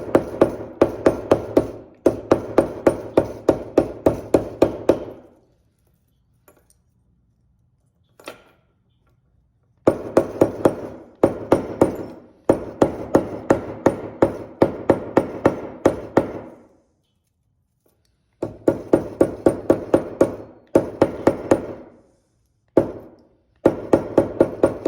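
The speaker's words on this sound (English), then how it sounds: "I really like working mine when it's work hardened" Hammer striking silver sheet during fold forming for jewelry, loud close rapid bursts of sharp metallic taps in runs of about a dozen blows, separated by short silent pauses.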